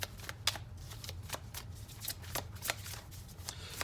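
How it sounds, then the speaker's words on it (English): Tarot deck being shuffled by hand, a series of crisp riffling card snaps and slides at a quick irregular rhythm, fairly close and moderately quiet over a low background hum. "I'm just going to keep shuffling these cards until we have 6 cards"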